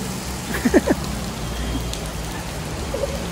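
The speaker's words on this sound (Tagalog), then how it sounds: "at umuulan. Taas ng ulan." Heavy rain pouring down outdoors under a dark sky, a steady hiss with a few brief nearby chirps or squeaks rising over it.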